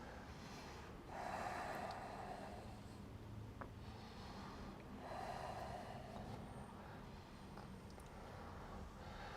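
Slow, deep breaths during a yoga warrior flow, two long breathy swells a few seconds apart over a faint steady background hum, quiet and close, no voice.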